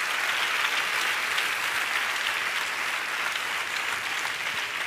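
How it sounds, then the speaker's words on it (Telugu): A church congregation at a Christian prayer service claps together, producing dense, steady applause that fills the whole stretch evenly without pause, with no voices on top. "నేను నమ్ముతున్నాను అన్న వాళ్ళు చప్పట్లు కొట్టు స్తోత్రాలు చెప్పు"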